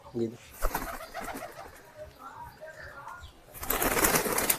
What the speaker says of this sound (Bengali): ছেড়ে দেন পায়রা